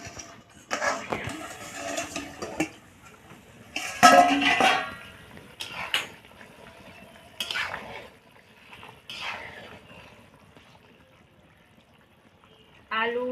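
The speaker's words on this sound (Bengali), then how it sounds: "এবার আমি ঢাকাটাকে খুলে নেব।" A lid lifted off a cooking pot of simmering papaya, potato and carrot for Bengali shukto gives a few brief metallic clinks and clatters, separated by quiet gaps, with a voice speaking at times.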